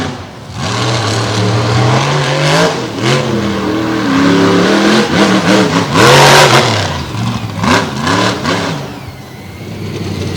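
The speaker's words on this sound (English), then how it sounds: "Snyder working the track in the black and green Ford warmed up" A black and green Ford monster truck revs hard during a freestyle run, its engine rising and falling in loud, sustained surges that fill the whole stretch, with one especially fierce burst near the end.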